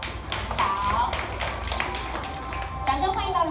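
Audience applause at an exhibition opening ceremony, a steady patter of clapping from a gathered crowd under someone speaking over a microphone.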